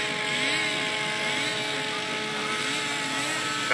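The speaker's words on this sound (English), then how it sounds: "sounds like a lot of the planes are maxing it out" Model airplane engine at the 2012 SAE Aero Design East competition, a plane flying heavily loaded, producing a steady, high buzzing drone with a slight wavering pitch, moderately distant and continuous throughout.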